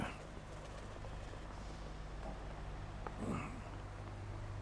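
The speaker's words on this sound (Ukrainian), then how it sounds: "мене всі голуби приучені" Pet pigeons coo softly at night in their loft, low steady murmuring that carries on throughout, with a brief rustling flutter near the end.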